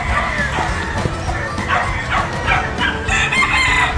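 A rooster crows loudly amid clucking chickens on a farm in Bataan, with a dog barking nearby and some voices mixed in.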